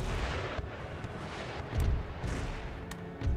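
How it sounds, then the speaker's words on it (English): Enemy mortar fire in an Empire: Total War siege battle against the Ottomans: repeated heavy booming blasts over a dense, continuous rumble of battle, with a few sharp loud thumps standing out. "Oh yeah, mortars."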